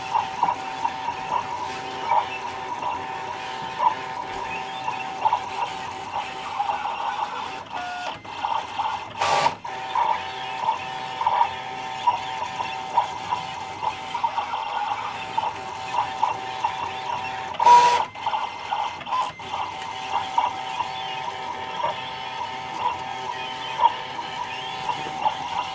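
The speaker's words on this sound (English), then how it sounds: "I'm going to hit send to cutter and that's going to start cutting out my fabric" An electronic cutting machine cutting out appliqué fabric runs with a steady mechanical hum and rapid carriage whirring, punctuated by a couple of brief louder clunks, close and continuous with no talking.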